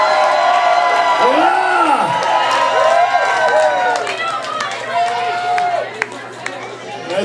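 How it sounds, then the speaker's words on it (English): An audience at a live band's final show claps and cheers loudly, with whoops rising over the crowd noise and a voice calling out briefly over the steady roar. "How about a round of applause"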